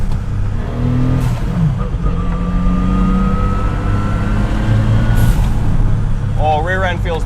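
A 2023 Nissan Z's engine pulls hard under acceleration, heard from inside the car as a loud, steady drone with rising engine tones. Tire and road noise fill in beneath it.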